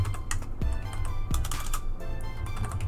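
Keystrokes tapping on a computer keyboard while a line is entered into a Linux Mint config file, a quick irregular run of close, crisp clicks over a low background hum.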